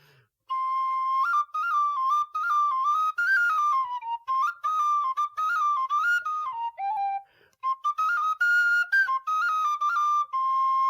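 A wooden flute plays a lively melody alone, with clear sustained notes and quick runs moving up and down, pausing briefly midway before the tune resumes.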